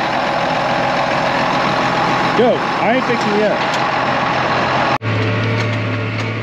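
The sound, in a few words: tractor engine idling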